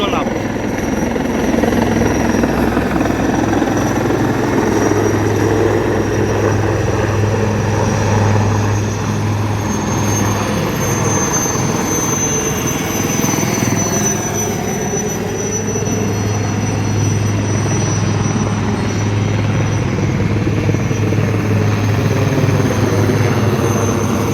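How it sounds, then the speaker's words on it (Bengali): Army helicopters land one after another on helipads at an open ground in Kolkata, their rotors and turbines droning loud and continuous throughout, with a voice talking over the noise. "সেনাবাহিনীর তরফ থেকে এখানে সব হেলিপ্যাডে সমস্ত হেলিকপ্টারগুলো ল্যান্ড করানো হচ্ছে"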